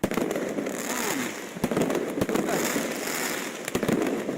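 Fireworks pop and crackle continuously during New Year's celebrations in Yakutsk, with repeated sharp bangs over a dense, noisy hiss of bursts, close by and fairly loud.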